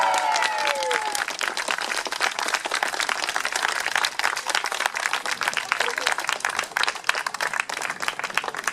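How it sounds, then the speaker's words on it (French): Crowd at an outdoor climate march in Cherbourg applauding: brisk, continuous clapping with scattered cheers and voices, fairly close and steady across the whole span. "Et c'est maintenant qu'il fallait applaudir."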